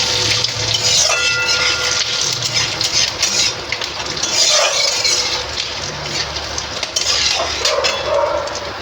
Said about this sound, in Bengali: এর মধ্যে তেজপাতা, একটু গোটা জিরে, দারচিনি, এলাচ, লবঙ্গ